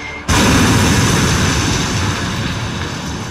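Sudden loud rumbling blast of an artillery barrage in the video game Panzers that rolls on as a continuous thunderous barrage of explosions, dense and heavy, slowly easing but never stopping.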